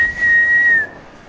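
A person whistles one clear, loud, sustained note close to the microphone while Fortnite is played. The pitch holds steady, then slides and fades out after under a second.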